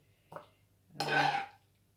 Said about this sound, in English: I'm going to just use a metal spoon to serve that up